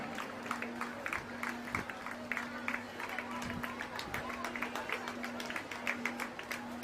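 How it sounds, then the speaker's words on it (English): Audience clapping at a school annual sports meet prize giving, with steady scattered claps and crowd murmur over a low electrical hum, moderately faint. "A loud cheer for our parents, Mrs. Juliet, Mr. Dexter, and Mrs. Selina."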